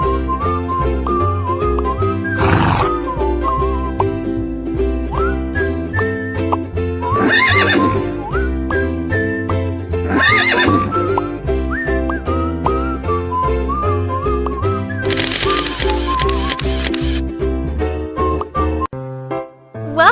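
Horse neighs and whinnies sound in a children's horse care video game, several loud whinnies over cheerful looping game music with whistle-like melody and clip-clop hoofbeats, ending in a burst of sparkly chimes.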